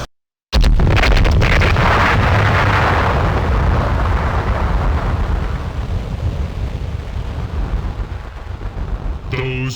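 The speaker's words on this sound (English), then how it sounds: "Heaven and earth shook as an explosion shattered Deasmar and the lands around it." A massive explosion in the intro of the DOS game Birthright bursts in after a moment of silence, then rolls on as a loud, sustained roaring blast that slowly fades.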